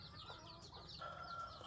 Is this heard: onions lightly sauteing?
no